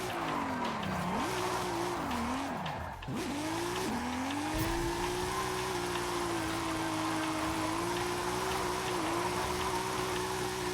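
A car in the Forza Horizon 5 racing game drifts with constant tire squeal while the engine swoops up and down in pitch, then settles into a steady high-revving drone after an upshift.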